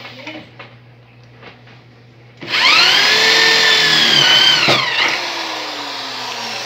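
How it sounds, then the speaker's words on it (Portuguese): Power drill boring through a knife handle, starting abruptly after quiet room noise and running as a loud, steady whine whose pitch sags and recovers under load, then continuing more evenly near the end. "Nem parei a broca porque eu quero fazer o vídeo rápido"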